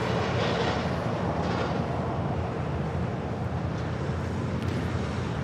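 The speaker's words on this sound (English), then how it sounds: "Next departure is JetBlue Airways Flight 424 heading to JFK in an A321." A JetBlue Airbus A321 departing LAX for JFK makes a loud, steady engine roar throughout, a dense rumble with no gaps.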